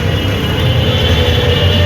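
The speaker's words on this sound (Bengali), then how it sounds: "ট্রেন যাচ্ছে" A train rolls past close by, a loud, steady low rumble with a continuous mechanical hum and no break over its brief span.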